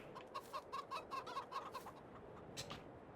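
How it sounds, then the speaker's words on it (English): Chickens in the video game Farming Simulator 22 cluck in a quick, rhythmic series of short calls, fairly quiet and close, with no talking. "Chickens have been doing well."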